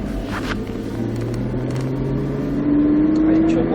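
Twin-turbo Nissan Skyline GTR engine on the Nogaro race circuit, a steady loud rumble that rises in pitch toward the end as revs climb, with voices talking over it.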